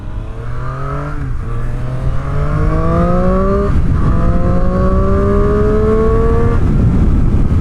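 A 2019 Triumph Street Triple R engine revs hard while riding at a spirited pace, its loud, steady, rising note climbing through several sweeping pulls with brief dips between gears.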